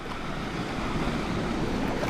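Small waves breaking on a tidal foreshore during a big tide, a steady close wash of surf with some wind rumble, continuous and alone with no voices.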